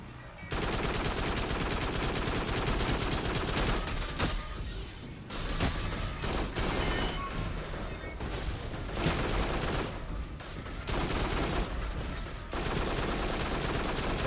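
Rapid, loud gunfire from weapons in the VR shooter Farpoint, sustained bursts of shots rattling almost continuously with a few short pauses between volleys.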